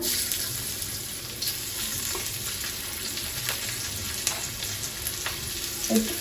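Chopped onion frying in hot oil in a pan where pabda fish were just fried, giving a steady, fairly soft sizzle with a few faint clicks and no voices.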